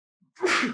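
A single loud, close sneeze opens with a short intake of breath and then bursts out as a breathy blast.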